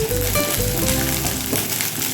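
Garlic and spices sizzling in hot oil in a pan for a dhaba-style arhar dal, a dense continuous crackling fry close by, with a few soft stirring scrapes.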